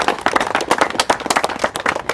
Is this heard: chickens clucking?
no